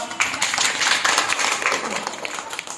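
A group of children claps together in a classroom, a dense patter of hand claps that holds steady throughout.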